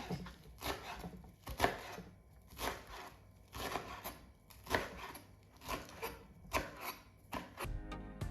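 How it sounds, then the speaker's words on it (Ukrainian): Rhythmic knife strokes on a cutting board finely chopping fresh herbs, quick repeated chops in bursts with short pauses, close and fairly quiet. "Беру 10 грам зелені і дрібненько її нарізаю"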